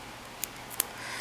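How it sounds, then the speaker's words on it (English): Two quick, crisp snips of scissors cutting double-sided tape, spaced apart against a quiet room background. "take your scissors and cut out the triangle from the double-sided tape"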